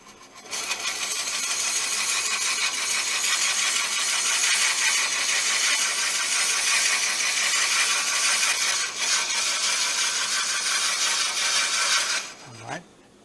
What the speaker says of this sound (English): For y'all who have not seen my 3-step approach to drilling, here it is.